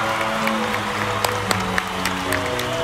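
Clapping at a Japanese high school graduation ceremony, moderately loud over a steady tonal hum, with a few sharp, distinct claps standing out from a soft background patter.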